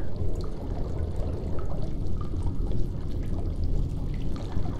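Splashing and sloshing as a character wades through water in the horror video game Amnesia, a steady, continuous liquid churn with small drips and trickles, fairly close and alone.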